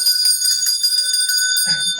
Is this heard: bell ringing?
yes